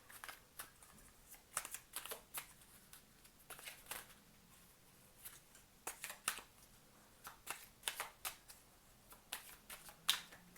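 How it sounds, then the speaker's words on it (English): Playing cards are shuffled again and again in soft, crisp riffling bursts, each a brief flutter followed by a short pause, quiet and close with no other sounds. "Anyone else like the sound of shuffling cards?"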